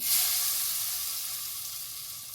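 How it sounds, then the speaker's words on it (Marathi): Hot tadka of dried red chillies, leaves and turmeric poured over dal with raw mango, giving a bright, hissing sizzle that bursts loud at first and slowly fades over a couple of seconds, with no voices. "तयार केलेला तडका डाळ कैरीवर घालून घ्यायचा."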